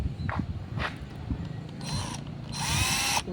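A found power drill, apparently left behind by workers, still runs: two short whirring bursts of the motor, the second longer, rise close by over low background rumble and scuffing.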